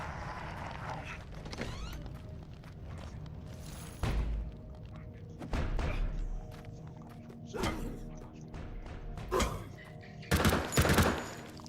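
Submachine gun fire in an indie horror video game set in the mountains: several short bursts spread across the clip, fairly close and loud, with footsteps and quiet thuds between the volleys.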